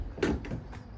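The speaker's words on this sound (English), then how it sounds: "Opening up the doors into the back of the vehicle." Rear doors of a 2019 Ford Transit Custom L2 LWB Limited van being opened, a couple of soft latch clunks and a brief door swing, close and quiet.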